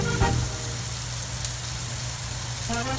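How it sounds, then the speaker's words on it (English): Steady sizzling hiss of steak frying in a hot pan, continuous and fairly close, with a low background hum and no talking. "We need to hear the sizzle so we can see the Maillard reaction"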